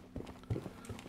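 A teammate's footsteps in the military shooter Gray Zone Warfare: a few soft, muffled thuds in an uneven rhythm, fairly quiet and close, over low background game ambience.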